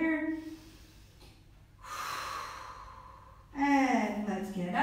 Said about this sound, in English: Inhale, exhale there.